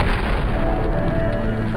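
Bomb explosion in the video game Steamworld Heist, a loud, dense, rumbling blast filling the short moment with a sustained roar and no talk.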